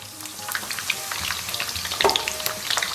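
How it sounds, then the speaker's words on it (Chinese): Scallion and ginger stir-fry in moderately hot oil in a wok, a close crackling sizzle broken by scraping stirs and spatula clicks, with a louder burst near the end. "接下来咱们给锅里边稍微来点油， 油温3、4成热，咱们把葱姜给下到里边煸炒。"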